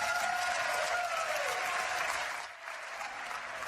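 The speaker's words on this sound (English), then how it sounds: "That proposal got both Democrats and Republicans on their feet in applause" Legislators from both parties applaud during a governor's State of the State address, a dense, steady wash of clapping from a large chamber that dips briefly and then carries on.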